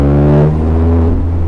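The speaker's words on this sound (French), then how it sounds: "l'échappement qui résonne dans les murs en pierre, c'est magique" Exhaust of a Morgan 4/4 80th Anniversary with a 1.6-litre, 116 hp four-cylinder engine, echoing off stone walls: a loud, steady, close engine drone with strong low harmonics that holds and then eases slightly.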